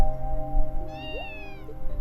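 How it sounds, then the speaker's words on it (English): A cat in the video game Trails From Zero lets out a single short, clear meow over a low, steady hum of game background sound. "A cat?"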